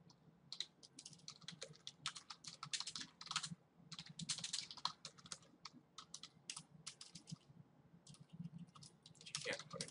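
Steady computer keyboard typing while coding in C#, quick close keystrokes in uneven bursts with short pauses, fairly quiet.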